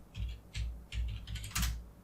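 Close computer-keyboard typing of code, with short bursts of clacking keystrokes in quick clusters separated by brief pauses, clear and without talk.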